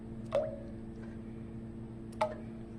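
Two soft plops, about two seconds apart, as bouillon cubes drop into a pot of homemade filé gumbo over a steady low kitchen hum.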